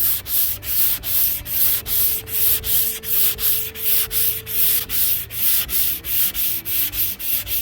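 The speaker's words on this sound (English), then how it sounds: "we're going to sand this probably 5 more times" Rhythmic back-and-forth block sanding strokes rasp against the body of a 1978 Chevy Malibu drag car, close and loud, repeating evenly at roughly two or three strokes per second.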